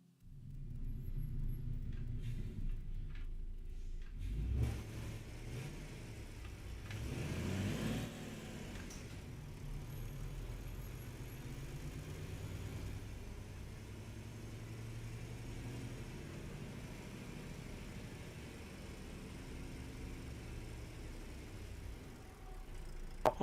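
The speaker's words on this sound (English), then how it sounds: "this is more like the truck sounds that I like" A truck engine in the Euro Truck Simulator 2 video game rumbles deep and bassy. It revs up around the middle, then settles into a steady, quiet, continuous drone with no talk.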